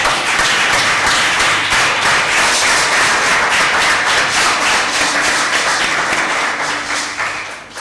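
Congregation applauding in a church, a loud sustained wash of many hands clapping from the crowd, steady throughout and tapering slightly at the end.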